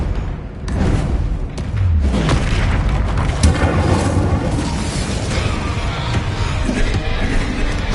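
An Incendio fire spell blast in the Hogwarts Legacy video game roars as a sustained, loud fiery rumble with booming bursts over several seconds, part of a busy combat soundscape.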